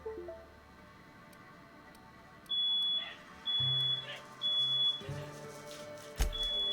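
Fire alarm going off in the game The Outer Worlds: repeated loud electronic beeps in short bursts over a quiet ticking backdrop, with a low tone and a sharp hit near the end.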